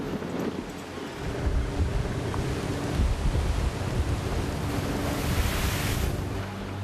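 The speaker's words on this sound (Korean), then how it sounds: "이 바람 많이 부는 날에 줄이 날려들어." Strong wind and crashing waves on the open winter sea around a small 78-ton crab fishing boat, a loud, continuous roaring surge with gusting buffeting against the microphone.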